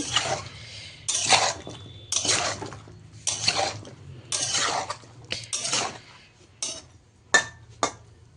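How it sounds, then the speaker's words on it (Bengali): Fish, spices and bottle gourd being mixed in a pan, with a series of separate scraping and clattering strokes of a spoon against metal, close and moderately loud, broken by short pauses and a low steady hum underneath. "এখন ভালো করে মিক্সড করে নেব মাছ মশলা লাউ সব কিছু"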